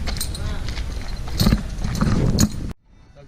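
Horse hooves clip-clopping on a street in Cuba, a steady rhythmic clatter close by, mixed with background voices and ambient noise before cutting out abruptly.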